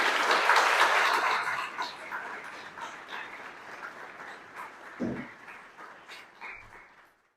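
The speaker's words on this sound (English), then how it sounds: "Can I ask that we clap for those two individuals?" Audience clapping at a school grand opening for a new college wing, loudest at the start and then thinning into scattered claps, with a dog-like yelp and a few thumps near the end.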